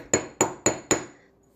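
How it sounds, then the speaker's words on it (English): Four light, evenly spaced hammer taps strike a metal necklace piece for a heishe scallop necklace, each a sharp close ring with a short metallic decay, the last fading out alone. "you're going to take and gently hammer it"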